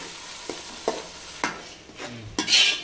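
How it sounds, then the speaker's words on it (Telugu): Onion paste fries in oil under a soft hiss, with about five distinct scraping stir strokes spaced through the clip. The sizzle swells louder at the end. "బాగా ఆయిల్లో బాగా వేగనివ్వాలి."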